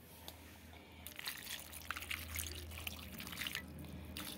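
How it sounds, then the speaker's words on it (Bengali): Water is poured into peeled bael fruit pulp in a kitchen, a faint trickling, gurgling pour lasting a few seconds with small splashes, quiet and close, no voices. "এবার বেলের মধ্যে একটু জল দিয়ে দেব।"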